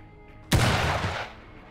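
A single loud, sharp gunshot with a short decaying tail fires in the Empire of Sin video game, heard alone without talk.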